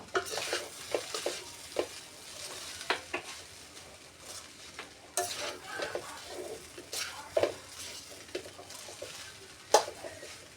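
Egg fried rice being stirred and tossed in a pan in fast-food-centre style, with soft scraping and light sizzling that come in irregular strokes, plus a few sharper clinks, all at a moderate, steady level with no talk.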